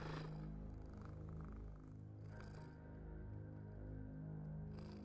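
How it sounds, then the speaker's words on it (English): A black cat purrs close up in a steady, rhythmic low rumble, each breath cycle audible as the purr swells and eases, with no talking over it. "Hopefully you guys can hear him purring away like a little machine."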